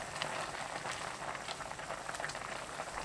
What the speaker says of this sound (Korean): 그대로 2분 더 끓여주세요.